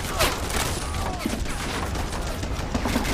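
Rifle volley fire in the video game Men of War Assault Squad, a dense burst of overlapping shots and booms rolling on continuously at high volume, with a shouted command heard over the battle noise.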